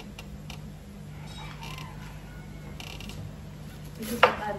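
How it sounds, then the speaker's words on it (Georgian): A door creaks slowly as it closes, giving several drawn-out groans from its hinges before a sharp knock at the end. The sound is close and clear, and nobody speaks over it. "ეს კარი იხურება."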